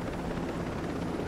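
A helicopter in the video game Ghost Recon Breakpoint flies with a steady, droning rotor and engine hum, continuous and fairly loud with no talk.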